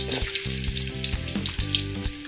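Onion goes into hot oil with ginger in a pan, giving a loud, dense frying sizzle that crackles steadily throughout, with occasional stir scrapes.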